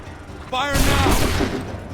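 A musket volley fires on command in Assassin's Creed 3, a single massed crack of many guns at once after a short shouted order, followed by a booming rolling decay.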